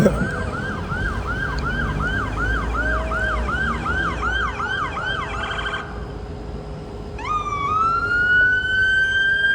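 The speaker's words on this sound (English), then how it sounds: "here comes the police" A police car siren wails past, loud and close, with a rapid repeating yelp that breaks off and then rises into a long sweeping wail over road traffic noise.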